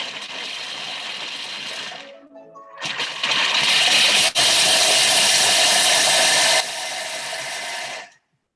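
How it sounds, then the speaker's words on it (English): Food processor grinding dip ingredients: a loud, close whirring burst, a brief pause, then a longer, steadier run of several seconds that ends sharply. "I'm just going to grind those just for 2 seconds, just to make them much smaller."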